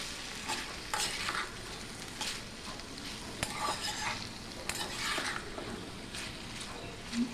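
Finely chopped onions, two medium ones, fry in a pan for a brinjal dish while being stirred, giving a steady sizzle broken by repeated scraping strokes of the spoon against the pan.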